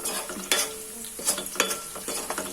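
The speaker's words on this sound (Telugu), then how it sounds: "చక్కగా వేగిన ఉల్లిపాయలు దీంట్లో తాలింపు గింజలు వేసుకోవాలి." Onions sizzle in oil with tempering seeds, urad dal and cumin, a steady crackle punctuated by several bright scraping stirs of a spoon against the pan, close and fairly loud, with no voices.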